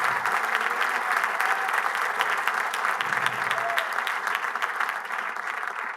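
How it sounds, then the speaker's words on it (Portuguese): A church congregation gives a strong, sustained round of applause, a dense, steady roar of many clapping hands filling the whole stretch at even loudness. "Dê para Jesus uma forte, forte salva de palmas."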